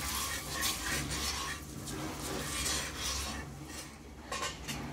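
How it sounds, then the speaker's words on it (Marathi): Roasted semolina being stirred into melted jaggery in a pan for sheera: a close, continuous scraping and rubbing of a spoon against metal, with soft clinks and faint sizzling underneath. "हा रवा पण सावकाश घालत जावं आणि एका हाताने हलवायचं"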